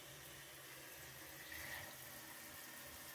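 Steady, even rush of water running from a tap while a dog is being washed, filling the clip at a moderate, constant level with no talking.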